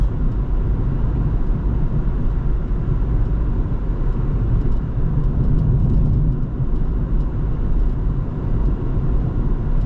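A car engine runs steadily while driving at night, recently fitted with a new radiator, producing a continuous low rumble with constant loudness and no talk.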